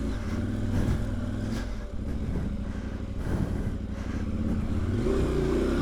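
A motorcycle fitted with Mitas Enduro Trail XT Plus tyres rides a gravel road, its engine droning loudly and steadily under crunching, clattering tyre noise from start to finish.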